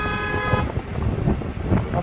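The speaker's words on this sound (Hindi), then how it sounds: "हमको हॉर्न मार रहे हैं क्या?" A car horn honks in busy Delhi traffic, a steady blaring tone for about half a second at the start, followed by a dense rumble of engines and street noise.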